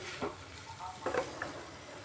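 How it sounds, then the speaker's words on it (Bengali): Cabbage and potatoes sautéed slowly on a low flame: a soft continuous sizzle broken by a few gentle stirring scrapes, close and quiet. "এবার গ্যাসের স্টিমটা কম করে ধীরে ধীরে কষাতে হবে বাঁধাকপি আলু"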